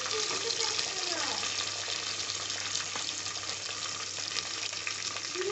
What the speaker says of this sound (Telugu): 3 పచ్చిమిరపకాయలు అట్లే వేసేస్తున్నా. ఇవి కొద్దిగా వేగనిద్దాం.